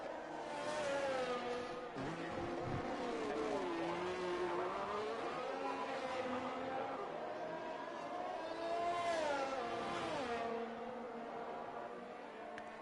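McLaren Formula 1 car in a sim racing game at the Dutch Grand Prix, its high-pitched engine rising and falling through gear changes as it brakes and accelerates through corners, heard steadily with no talk.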